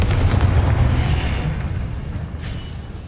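Confringo blasting spell going off in Hogwarts Legacy, a heavy booming explosion that hits loud at once and then rumbles and fades over a few seconds.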